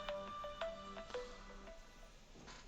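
A quiet phone ringtone in the space game Eve Online plays a short, repeating melodic pattern of bright tones, faint and alone without speech.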